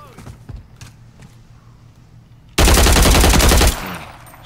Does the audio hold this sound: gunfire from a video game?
yes